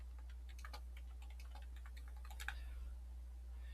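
Someone types an address on a computer keyboard: a rapid, quiet patter of key clicks over a low steady hum, pausing briefly before a final burst of keystrokes.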